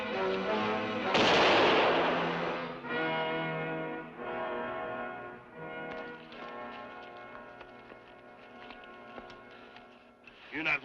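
A single loud gunshot cracks out in a 1950s Western adventure drama, ringing sharply over dramatic orchestral music that carries on after the shot.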